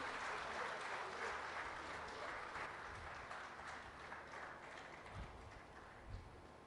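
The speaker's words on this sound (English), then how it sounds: "let's give a resounding applause to him, please" Conference hall audience at Future City, Telangana, applauding the Deputy Chief Minister with sustained, faint and fairly distant clapping and a few soft low thumps.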